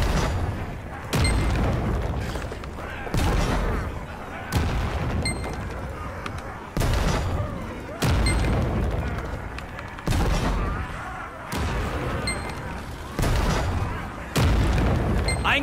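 Cannon fire booms repeatedly as castle walls are defended in the video game Lost Ark, heavy blasts every second or so over a constant battle din.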